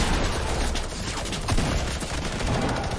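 Shotgun and sniper shots in a Fortnite match: dense, loud bursts of gunfire crackle repeatedly over a constant noisy game backdrop, several shots overlapping across a few seconds.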